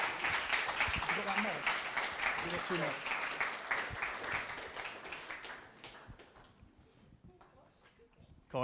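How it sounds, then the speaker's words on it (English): An audience at a sales conference talk applauds with dense, sustained clapping mixed with some voices, fading out toward the end of the clip. "can we have a round of applause for Jon Allder and Lizzie Stamp"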